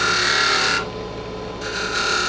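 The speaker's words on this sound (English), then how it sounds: "I'm going to use the spindle gouge, and I'm going to go in straight, and then I'll rotate it once it starts cutting." A spindle gouge cuts wood on a lathe, giving a steady close scraping hiss that eases off for a moment midway and then resumes.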